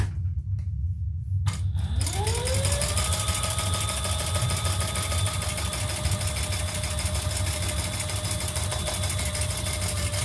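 A sewing machine top-stitches a crossbody bag, its motor spinning up after a brief pause into a steady, fast, evenly whirring run that holds close and loud to the end.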